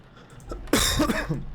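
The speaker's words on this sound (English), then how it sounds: "Sorry for coughing straight into the microphone there." One harsh, close cough right into the microphone, loud and raspy, followed by a brief throaty rattle, with quiet room noise before it.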